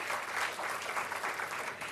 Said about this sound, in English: please join me again to give a roaring round of applause to all these talented performers